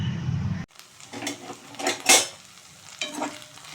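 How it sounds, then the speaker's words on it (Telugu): Garlic and fenugreek seeds fry in oil in a pan, with soft sizzling broken by several bursts of a spoon stirring and scraping against the metal, close and fairly loud, following a brief low hum that cuts off abruptly. "ఇదిగోండి వెల్లుల్లి వేస్తున్నాను, వెల్లుల్లి కూడా ఎక్కువ వేసుకోవాలి."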